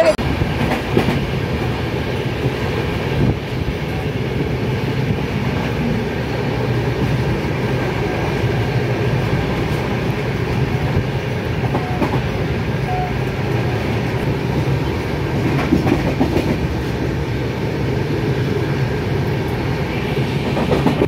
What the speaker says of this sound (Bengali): ট্রেন ক্রস করছে খানা জংশন